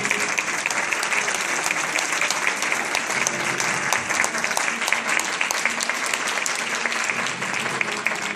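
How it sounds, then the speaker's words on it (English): Steady, loud applause from an audience at a Veterans Day ceremony, dense clapping continuing without a break for several seconds. "You give a round of applause."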